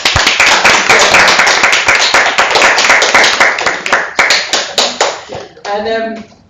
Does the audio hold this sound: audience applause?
yes